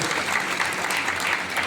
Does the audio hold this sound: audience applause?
yes